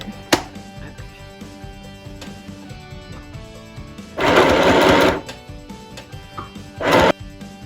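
Sewing machine stitching a basic seam on a vintage dress, running in two short bursts of rapid whirring, the first about a second long and the second briefer, close by with quiet handling sounds between.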